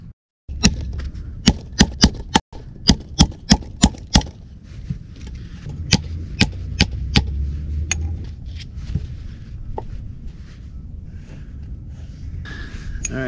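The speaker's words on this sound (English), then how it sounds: "I can try and hammer out this collar" Hammer blows on a pressed-on collar fitting of an RV rear track bar: sharp, close metallic strikes in quick bursts, then sparser hits with quieter handling noise between.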